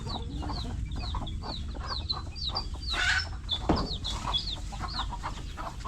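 Newly hatched chicks cheep in quick, repeated high peeps over the low murmur of the hen and a soft rural background, several small voices chirping close by throughout.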